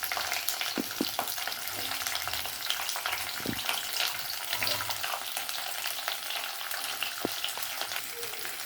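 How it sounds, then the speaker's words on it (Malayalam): Chopped okra sautés in a pan over a medium flame, giving a steady close sizzle broken by occasional stirring knocks and scrapes of the spoon, with no talking. "ഇനി ഇതിനകത്തോട്ട് നമ്മൾ അരിഞ്ഞു വെച്ചിരിക്കുന്ന വെണ്ടയ്ക്ക ഇട്ട് കൊടുക്കാം. വെണ്ടയ്ക്ക നല്ലവണ്ണം വഴറ്റണം."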